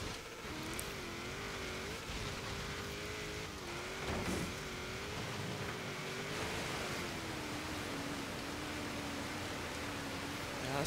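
A 1995 Mitsubishi Eclipse GSX driven fast through water in Forza Horizon 3, its engine holding a steady droning note beneath a constant broad wash of splashing spray for the whole stretch.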